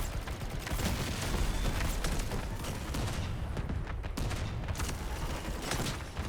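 Gunfire in an online shooter video game, dense rapid bursts of shots cracking close and loud in quick succession with only a brief lull, no talk.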